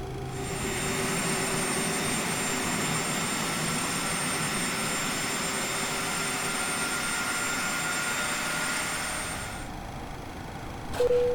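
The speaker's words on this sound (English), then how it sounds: "Two good engine starts" Twin jet engines of a Boeing 737-300 idling after start in X-Plane 11, a steady droning roar with a whining tone, constant for about ten seconds before easing slightly, ending with a short click.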